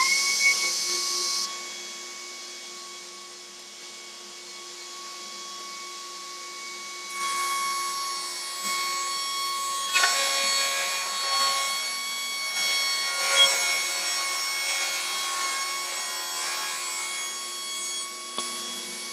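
A saw fitted with a straight-line ripping shoe rips along a wooden board against a parallel fence, a steady whining motor with a rough cutting rasp that swells midway, close and loud with no talking.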